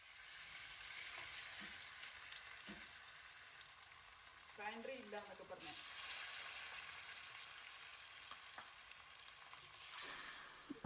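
Marinated chicken fries in a pan with a continuous, close, crackling sizzle, broken by a few scrapes and clinks of stirring.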